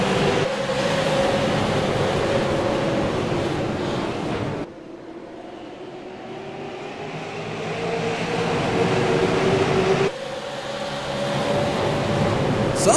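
Race cars at USA Speedway roar past as the field takes the green flag out of turn 4, a loud continuous engine drone that swells, drops off briefly and builds again, with no one talking.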